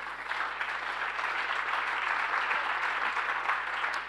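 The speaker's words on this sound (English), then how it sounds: "You don't have to clap for all of them" An audience at a labor-organizing talk claps steadily, a dense, even wash of applause holding at a constant level from start to finish, with no speech over it.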